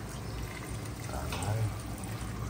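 Water is poured into a pan of chicken in sauce on the stove, a steady splashing fill under a background hum with a faint sizzle.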